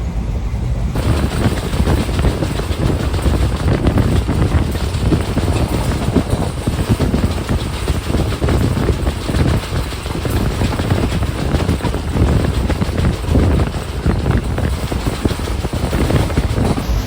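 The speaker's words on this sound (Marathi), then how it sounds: "बघा नुकतीच ट्रेन चालू झाली" Steady loud rumble and roar heard from inside the Tutari Express, droning without let-up as the train gets moving, with no talk.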